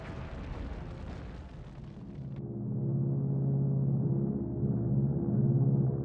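Bombs from Japanese bombers explode at Midway, hitting buildings and oil tanks: a heavy blast that fades into a deep, loud, sustained rumble swelling again toward the end.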